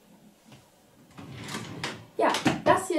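A drawer of a baby changing dresser being pulled open, giving a few close knocks and a sliding rumble that grow louder toward the end, with brief speech-like sounds mixed in.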